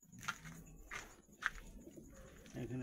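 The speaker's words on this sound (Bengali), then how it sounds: "এখানে একটা দেশি পায়রা দেখাই।" A native pigeon in a backyard loft gives a few soft, repeated coos at a steady pace, close by and with no talking.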